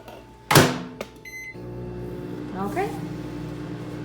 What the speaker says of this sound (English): So now we are putting our little things in the microwave for 2 minutes.